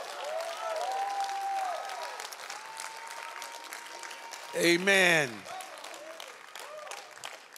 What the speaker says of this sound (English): Now let's give God a hand clap of praise.